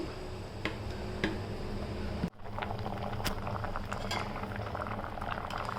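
Rice boils in a pot of water for biryani, a continuous low bubbling roil with a few scattered ticks and taps and one brief clunk partway through. No voices.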